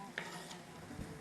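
Onions and tomatoes fry in a pan with a soft, steady sizzle, broken by a couple of brief utensil clinks and stirring scrapes close by.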